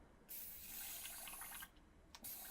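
Water runs steadily from a tap while an airbrush is being cleaned, a hissing splash that stops briefly and then resumes, close and alone.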